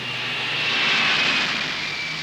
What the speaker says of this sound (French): Tu vois, un avion qui décolle, c'est quand même un truc phénoménal.